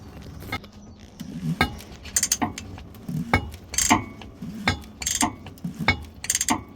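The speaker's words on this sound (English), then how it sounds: "use your 36mm wrench or 36mm socket and go ahead and undo the fuel filter housing cap" A 36mm wrench or socket ratchets off the fuel filter housing cap on a diesel truck, giving repeated close metallic clicks and clunks in an uneven rhythm.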